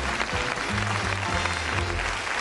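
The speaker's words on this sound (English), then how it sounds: "Give him a round of applause." A TV game show studio audience applauds steadily throughout, a dense wash of clapping with no pauses.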